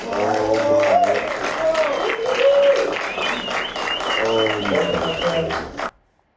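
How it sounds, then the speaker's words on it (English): Crowd applause for Brazilian World Cup winner Kaká, a loud sustained clapping wash with voices and shouts cutting through it before it cuts off abruptly at the end. "please, everyone, massive round of applause for Kaká"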